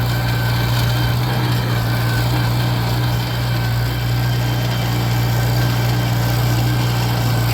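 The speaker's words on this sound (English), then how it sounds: "she's a fun little tractor to tool around in." A small Farmall Cub tractor engine chugs steadily at close range, a low droning hum holding even throughout with no breaks.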